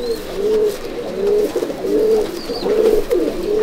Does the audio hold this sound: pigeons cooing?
yes